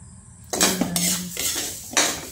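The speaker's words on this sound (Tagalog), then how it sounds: "Imekos-mekos lang natin to hanggang sa masunog yung bigas" Rice stirred and toasted in a pan for homemade rice coffee, with a utensil scraping and clinking against the metal in a few close, sharp strokes.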